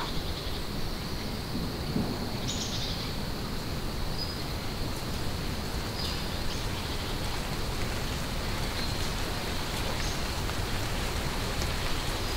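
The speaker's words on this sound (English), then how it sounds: "Rain dripping into a puddle." Steady rain falls continuously, dripping into a puddle, a dense wash of drops hitting water and surfaces, with a faint rumble underneath.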